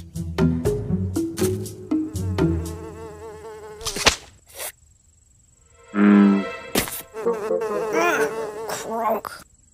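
Flies buzz in loud, wavering bursts that start and stop several times, set against louder tones, with a brief murmur from a voice.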